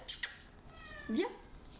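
A house cat gives a single short meow, close and fairly quiet, after a couple of soft clicks.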